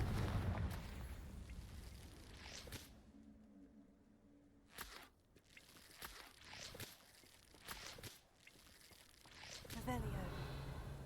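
The Confringo blasting spell goes off in the wizarding game Hogwarts Legacy, with several heavy explosive bursts spread across the stretch. They are separated by quieter gaps and mixed with crunching debris and a voice talking.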